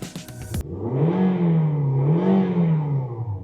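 A 2015 Toyota Vios 1.5E engine idles and revs, heard from inside the cabin with the doors closed; a short clatter opens before a muffled, rising and falling engine drone fills the rest.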